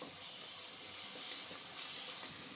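Ground paste of shallots, garlic and ginger sautéing in hot oil, giving a steady, close hissing sizzle for a couple of seconds with slight swells.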